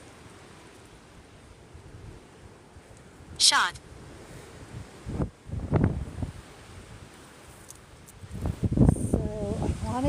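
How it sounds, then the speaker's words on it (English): Gusty wind blows across an open cemetery in Barrington, Illinois, a low, rumbling buffeting that rises and falls in bursts, with a person speaking briefly between the gusts. "Very windy in the Midwest,"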